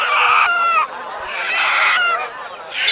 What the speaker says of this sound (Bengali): বেশিরভাগ মুরগি হাঁস মুরগি আনা হয়েছে